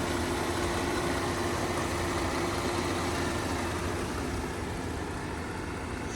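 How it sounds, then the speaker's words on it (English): A 2018 Jeep Grand Cherokee Overland 4x4 engine runs steadily at raised revs, a loud, continuous hum and rumble held for the whole stretch with no voices. "I still like to rev it up as much as I can so you can hear it at a higher"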